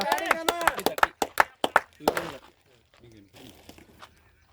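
A small group claps for a fielder during an amateur cricket match, a quick series of about a dozen sharp, close claps that stop halfway, followed by quieter ambient sound and talk.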